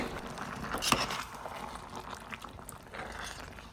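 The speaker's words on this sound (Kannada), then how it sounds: "ಹೈ ಫ್ಲೇಮ್ನಲ್ಲಿಟ್ಟು ಕುದಿ ಬರಲಿಕ್ಕೆ ಇಟ್ಕೊಳ್ಳಿ. ನೋಡಿ, ಕುದಿ ಬಂದಿದೆ." Pork curry bubbling in a pot over a high flame, a soft continuous simmer of popping bubbles with a brief louder splash or stir near the start, heard close and alone.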